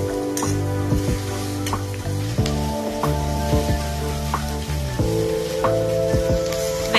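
Onions and mustard seeds sautéing in a pan for egg noodles, giving a steady crackling sizzle that runs unbroken beneath background music, with no talking.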